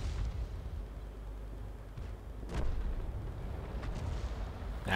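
Self-propelled artillery fires in a tank video game, heard as a few faint, muffled booms with the loudest burst near the middle against a low rumbling background.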